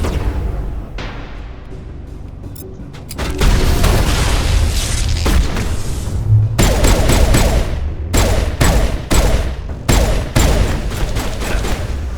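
Combat in Mass Effect: heavy bursts of automatic gunfire with booming impacts, loud and close, in rapid runs broken by short pauses after a quieter opening.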